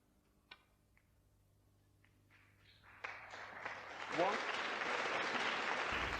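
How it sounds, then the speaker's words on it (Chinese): A snooker match crowd applauds after a simple red is potted. A few sparse taps come first, then the clapping swells from midway into a loud, sustained wave of applause that keeps building to the end. "打进这样一颗简单红球，都能引得现场观众如潮般的掌声"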